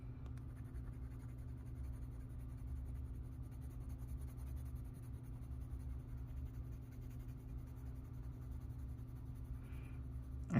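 A colored pencil lays a yellow layer onto paper with a soft, steady scratch. It is faint and continuous under a low background hum.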